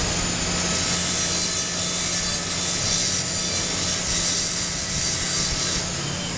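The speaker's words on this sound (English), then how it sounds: "Move straight fissure burr along cusp so as to achieve cavity shape." A straight fissure dental bur cutting a cavity into a tooth produces a continuous high-pitched whine with a steady hum beneath, loud and unbroken, with no voices.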